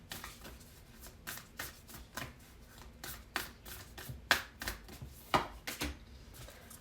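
Oracle cards are shuffled by hand: a steady run of quick, close riffling snaps and taps, some sharper flicks among them, with no talk.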